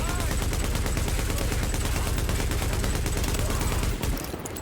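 Dense gunfire in Tom Clancy's The Division: continuous rapid automatic shooting, loud and close, pounding without pause for several seconds before abruptly cutting off into quieter echo.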